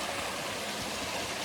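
Water pours in a steady broadband rush at Flat Lick Falls in McKee, Kentucky, a constant waterfall roar with no pauses.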